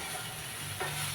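Large chunks of potato fry with carrot and cauliflower in a pan, giving a continuous close sizzle that swells slightly with a stir near the end.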